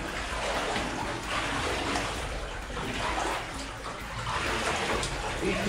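Water falling and splashing inside a disused mine adit, a steady close rushing and trickling that continues without a break throughout.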